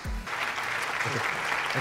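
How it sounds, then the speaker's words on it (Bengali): A studio audience on a Bangladeshi TV comedy show bursts into loud applause for a person; the clapping is dense, continuous and steady, with no one speaking over it. "ওর জন্য জোরে একটা হাততালি"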